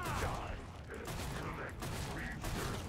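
Shotgun blasts from the video game Killing Floor 2 during a Christmas Crackdown match, a steady run of firearm bursts and mechanical clatter over dense game noise, with a voice speaking across them.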